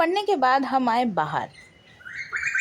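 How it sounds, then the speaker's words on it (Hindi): A voice talks at first, then a bird's high chirps ring out in a quieter outdoor setting. "और ये जो चिड़िया की आवाज़ है, इतनी सूदिंग लगती है"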